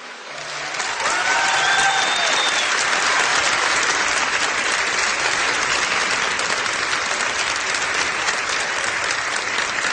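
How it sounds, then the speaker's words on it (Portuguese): An audience applauding a sermon, with loud, sustained clapping from a large crowd that starts after a brief pause and continues steadily to the end. "Eu sei que é fácil para vocês baterem palmas."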